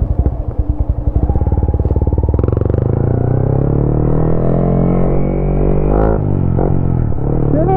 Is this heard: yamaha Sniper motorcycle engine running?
yes